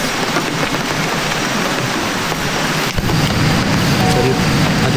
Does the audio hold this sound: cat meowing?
no